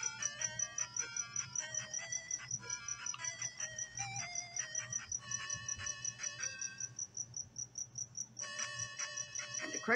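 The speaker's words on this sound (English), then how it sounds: "crickets are going nuts tonight" Steady, rapid high-pitched cricket chirping in the video game Zelda II, layered with electronic-sounding trills and tones, continuous and fairly close with a low background hum.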